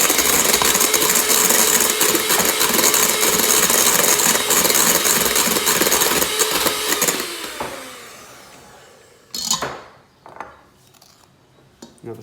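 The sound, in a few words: electric mixer whisking meringue with caster sugar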